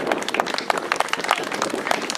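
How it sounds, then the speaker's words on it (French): Audience clapping for a cadet cyclist at a cyclocross race in Pleyben, steady dense applause from a small crowd, moderately near, with no talk over it. "Allez, on l'accueille avec des applaudissements."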